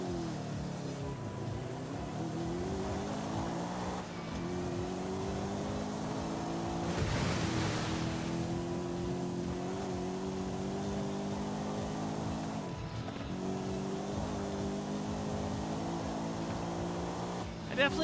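A car engine driving in Forza Horizon 5, a sustained droning engine tone whose pitch climbs and drops with shifts, steady and loud throughout, with a burst of rushing noise partway through.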